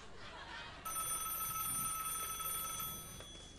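An old telephone rings in a room, its steady bright electric bell starting suddenly after a moment of quiet and holding loud and continuous to the end, with faint voices in the background.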